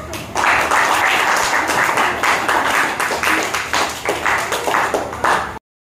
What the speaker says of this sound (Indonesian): Pada kelompok 10, berikan aplaus.